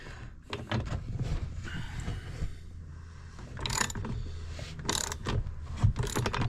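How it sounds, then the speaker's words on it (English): A wrench tightening the spark plug on an ECHO CS-590 chainsaw, with a series of close metallic ratcheting clicks and handling knocks in short bursts. "then I will tighten it up with a wrench"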